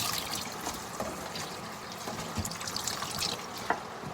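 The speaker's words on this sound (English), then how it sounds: "And next we wash the tahong or the mussels." Mussels rinsed under running tap water, a soft steady trickle and splash with faint clinks of shells.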